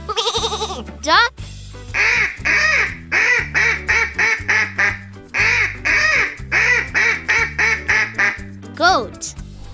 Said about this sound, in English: Duck.